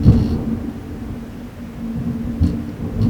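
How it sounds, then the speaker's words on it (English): Low, continuous rolling rumble of thunder outside during an indoor recording, steady and fairly loud throughout with slight swells, no talk over it. "it's thundering"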